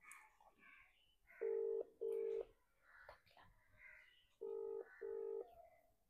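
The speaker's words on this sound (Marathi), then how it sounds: "बघूया, तर त्यांना फोन लावून बघूया" A phone number is dialed: four steady touch-tone beeps sound in two pairs, loud and clear, between quieter background voices.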